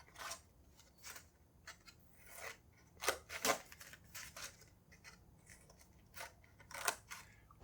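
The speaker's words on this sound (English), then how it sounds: "I'm going to take my trusty scissors and I'm going to cut just from the edge up to that middle circle" Scissors snipping through paper while cutting a Puerto Rican vejigante carnival mask, a series of short crisp cuts in irregular bursts, close and clear with no talking.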